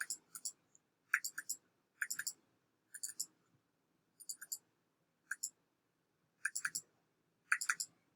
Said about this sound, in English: We'll have to click twice to uncheck.